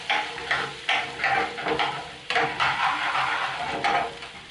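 Diced onions soften in hot oil in a pan for a curry, a soft steady sizzle broken by repeated scraping stirs of a utensil against the pan, close and fairly quiet, with no voices.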